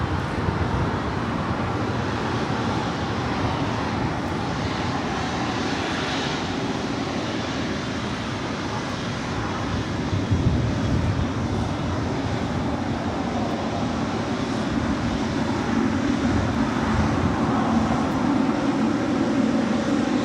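A Spirit airliner on its takeoff roll from runway 25 right at LAX: a loud, sustained broadband jet engine roar that swells slightly past the midpoint and holds steady without any voices.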